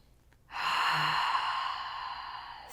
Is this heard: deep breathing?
yes